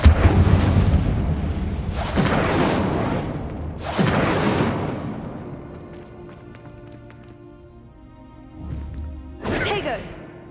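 Incendio fire spell cast in the Hogwarts Legacy video game, a series of three heavy whooshing bursts about two seconds apart followed by a quieter stretch and a final sharp burst, with a voice heard in the mix.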